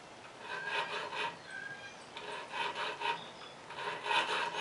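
A file sharpens the teeth of a cheap tenon saw, refining each tooth and removing the burr, in short bursts of gritty rasping strokes, close up and quiet.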